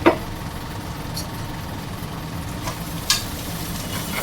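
Mutton liver pieces fry in a pan with a soft, steady sizzle, punctuated by a couple of scraping stirs and clinks against the pan; no voices.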